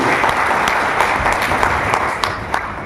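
Loud, steady applause from an audience at a direct-selling achievers' celebration, sustained dense clapping with a few sharper claps standing out, no voices over it.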